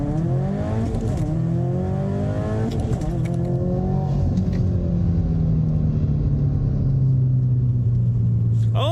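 A 2015-2019 Subaru WRX STI running on E85 fuel launches from a standstill, its engine revving and climbing through gears with a loud, close, rumbling growl from inside the car.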